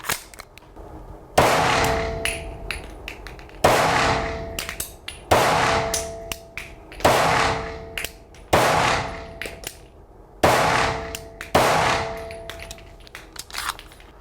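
An Arex Rex Zero handgun fires six sharp, loud shots down range at a steady pace of about one every two seconds, each crack followed by a short decaying echo.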